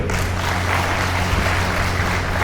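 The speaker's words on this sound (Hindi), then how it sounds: "मैं तो कह रहा हूँ आप सब अपने लिए ताली बजा दें इसके लिए।" An audience at a Gita seminar in Keshav Vidyapeeth, Jamdoli, claps for themselves in a steady, dense wash of applause that holds at an even, fairly loud level throughout.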